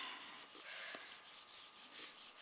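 Close, steady rubbing of a hand over paper on a papercraft frame, a soft dry scratchy sound in quick repeated strokes.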